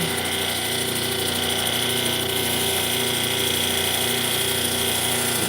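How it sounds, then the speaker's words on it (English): A polishing machine runs at a steady, continuous whine and hum during the first stage of polishing a gem, held at an even level with no pauses. "now we're into the first stage of polishing"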